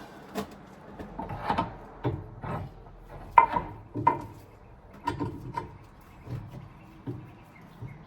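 Control arm being wiggled into place on a Subaru Forester, a series of close, irregular knocks, creaks and scrapes of metal parts shifting, spaced about every half second to second.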